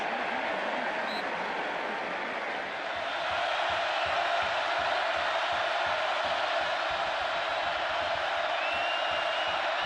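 Roaring football stadium crowd at a college game between California and Oregon, a dense continuous wash of cheering and shouting that swells slightly after the first few seconds, with a faint commentator voice underneath.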